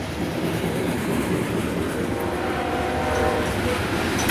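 A CSX eastbound loaded coal train with front and rear helper locomotives rolls past in a loud, continuous rumble of wheels and cars, steady throughout with a faint squeal near the end.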